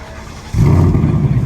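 A car pulls away from a Sunday car meet, its engine rising abruptly into a loud, steady revving drone close by after a quieter idle start.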